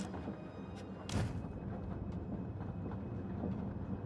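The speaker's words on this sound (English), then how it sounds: "As the train shakes, the treasures clatter together. Their sound is most like hollow wood and cheap brass." Treasures clatter together inside a shaking train in a video game, a hollow wooden and cheap brassy knocking over continuous low rumbling rail noise, with one louder thump near the start.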